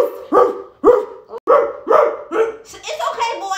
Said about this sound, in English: You see, Mama, you got my dog barking because you're not being honest.